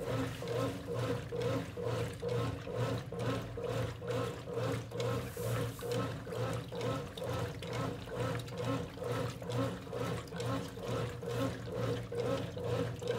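A 1993 Brastemp rotary washing machine runs with water inside, giving a steady, rhythmic churning and sloshing that pulses about once a second, close and continuous with no talk.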